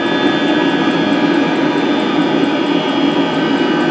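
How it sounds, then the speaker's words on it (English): A 16 kW diesel water heater's blower motors and fuel pump wind down, giving a loud, steady close-up whoosh and hum with a faint rhythmic ticking above it and no pause throughout. "It's now slowing down in the background. So as the blower motors bring the speed down."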